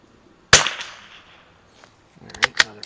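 Savage MKII rifle fired at an outdoor range: one sharp, loud shot followed by a fading tail, then a quick pair of further cracks near the end, with no talk.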